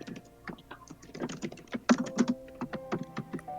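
Rapid typing on a computer keyboard, close and clear, with dense irregular clicks and clacks throughout and a few louder key strikes, over a faint hum.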